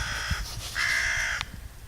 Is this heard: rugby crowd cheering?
no